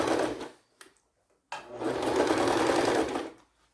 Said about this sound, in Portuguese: Na hora que estiver costurando essa parte de trás aqui da necessaire